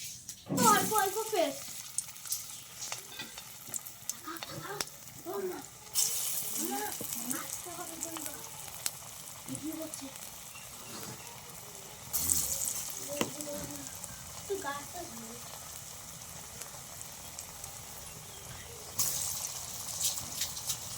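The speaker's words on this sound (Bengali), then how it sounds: "তেল গরম হয়ে গেছে আমি সব এইভাবে বড়াগুলো ভাজবো" Matar dal and raw banana fritters deep-frying in hot oil, a continuous crackling sizzle with louder bursts as batter goes in, close by, while someone talks over it.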